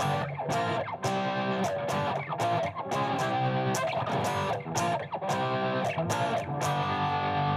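Distorted electric guitar strums full major barre chords in a steady rhythmic pattern, with brief choppy muted strums between the ringing chord changes.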